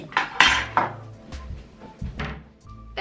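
Glass bowls and a measuring cup clink and clatter on a kitchen counter while vegan pancake batter is being set up, with several sharp, fairly loud knocks and rattles spread across a few seconds and no talking.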